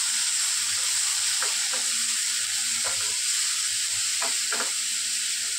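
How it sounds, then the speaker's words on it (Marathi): Steady, close sizzle of onion paste sautéing with asafoetida, green chillies and garlic in hot oil for an okra and onion dish, with a few soft stirring scrapes over the continuous frying hiss. "हिंग घालते, हिरवी मिरची, लसूण आणि कांद्याची पेस्ट घालते."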